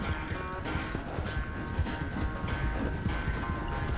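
A horse gallops steadily in the Red Dead Redemption 2 video game, its hooves drumming a fast, continuous clip-clop beneath a dense bed of game ambience.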